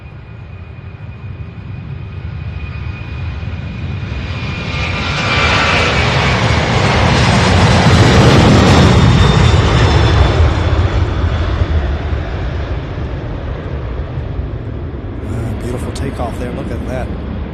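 An MD-11 jetliner takes off, its engine roar swelling to a loud, broad peak as it passes and then slowly fading into the distance, with people talking underneath.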